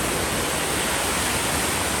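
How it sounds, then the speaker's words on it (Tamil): Fast-flowing water at Bomburu Ella waterfall in Nuwara Eliya rushes in a steady, dense hiss, close and loud, with no break or other sound over it. "பட் என்னென்னா தண்ணி ஃபாஸ்ட்டாக வந்து போயிட்டுருக்கு."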